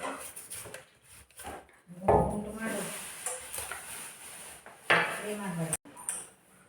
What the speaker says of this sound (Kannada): ನೋಡಿ ಸುವರ್ಣಗಡ್ಡೆ ಎಲ್ಲ ಕಟ್ ಮಾಡ್ತಾ ಇದ್ದೀನಿ